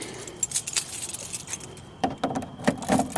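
Car keys jangling and clinking close by inside a vehicle, in irregular bursts of metallic rattles, with a poorly copied key among them.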